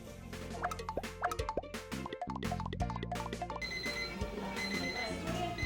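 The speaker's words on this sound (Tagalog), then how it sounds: "Nag-a-alarm lang yung orasan dito sa kwarto o bedroom." An electronic alarm clock beeps in quick repeated bursts in a bedroom over background music, fairly loud and close.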